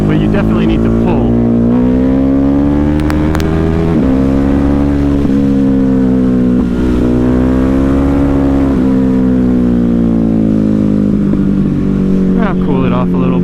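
A Ducati Hypermotard 950 motorcycle engine drones loud and close while the bike is ridden through wheelies, holding a steady high-revving tone that wavers slightly and drops near the end, with wind rush throughout.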